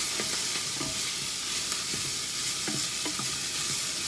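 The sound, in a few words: broccoli and lobster lo mein stir frying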